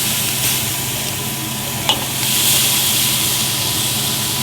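Bone-in pork chops sizzle over the hot side of a grill fire, giving a steady broadband hiss with a brief sharp pop partway through and a slight swell near the end, with no voices.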